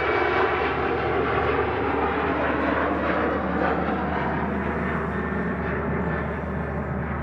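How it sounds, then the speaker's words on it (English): A Pegasus Airbus A320 airliner on an airport runway, its engines giving a loud sustained roaring whine that holds steady throughout with no speech. "there is a Pegasus lining up on the runway. A320."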